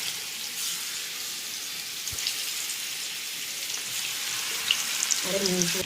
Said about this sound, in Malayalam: അതിലേക്ക് നമ്മൾ ഈ കോഴി ഇറച്ചി ഇറക്കിയിട്ട് വേണം. ഇറക്കിയിട്ട് നമുക്കത് മൂപ്പ് വരെ വറക്കണം.